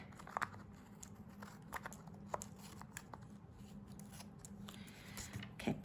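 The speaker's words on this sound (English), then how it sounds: "I'm going to take a pair of my snips, and I'm just going to go along the edge and trim those off" Metal snips trim the edges of card stock strips, giving a few light, crisp cuts and papery crinkles, close and quiet, with no talking.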